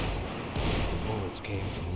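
Gunfire and explosions in the video game Max Payne 3 during an attack on a club form a dense, steady roar of rumbling booms and shots, with someone talking over the din.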